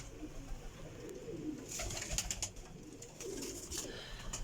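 Teddy pigeons coo softly at close range in a loft, low murmuring calls repeating over faint background noise.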